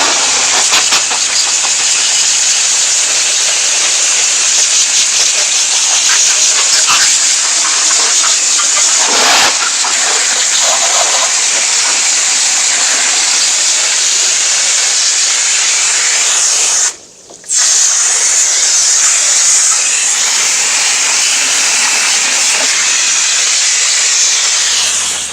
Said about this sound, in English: spray the engine off, and it's just this simple.